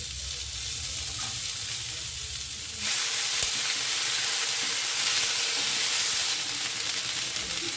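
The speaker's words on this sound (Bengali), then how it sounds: "ফুলকপি, শিম, আলু, পেঁয়াজ কলি ভালোভাবে ভাজা হয়ে গেছে।" Cauliflower, beans, potato and chopped spring onions fry in a pan with a steady, close hissing sizzle that grows louder and brighter partway through and continues without talk.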